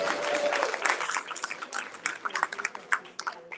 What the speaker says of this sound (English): Yes, you can clap me